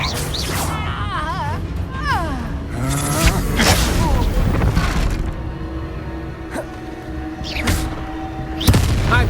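A Reductor spell explosion in the video game Hogwarts Legacy, heard as a loud crashing boom amid busy combat effects and other spell sounds, with a voice calling out over the action.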